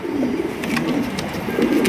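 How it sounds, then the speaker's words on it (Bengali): A pair of racer pigeons coo in low, throaty, rolling murmurs, a continuous close burble with faint rustling above it. "এখানে রয়েছে খুবই চমৎকার একজোড়া রেসার কবুতর"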